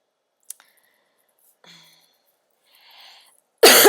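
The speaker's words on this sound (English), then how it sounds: "All right, little cough." A single short, sharp cough bursts out at the end after near silence, preceded by a few faint clicks and soft breathy noises.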